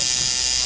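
A heavy tattoo machine runs with a loud, steady, high electric buzz, close up. The buzz is unbroken and there is no talk.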